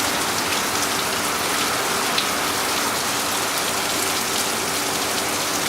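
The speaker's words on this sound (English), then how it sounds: "Torrential downpour in an instant." A torrential downpour during a rain storm in Kosovo, a loud, dense and unbroken roar of rain hammering down close by, steady throughout with no voices.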